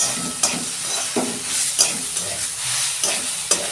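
Brinjal (eggplant) fries in oil with a constant sizzling hiss, broken by several sharp scrapes and knocks as the pieces are stirred in the pan at an irregular pace.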